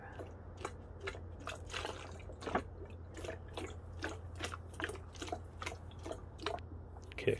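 A plastic 2-liter bottle, set up as a model of a motorcycle carburetor float bowl, sucks air while water drips: irregular close drips and soft gurgling pops over a steady low hum.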